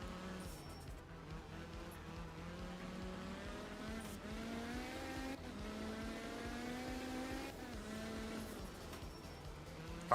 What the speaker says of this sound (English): Car sounds nice.